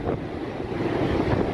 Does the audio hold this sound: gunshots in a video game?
no